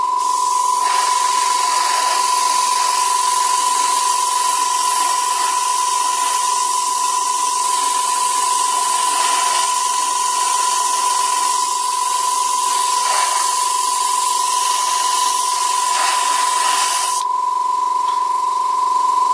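Paint sprays in a continuous close hiss from an airbrush during a second thin coat on a model shield, with a steady tone underneath and slight pulsing, then stops near the end.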